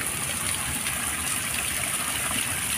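Continuous rushing flow of a waterfall beside a Victoria Peak hiking trail, a dense, even hiss of falling water with no break, fairly close and without talk.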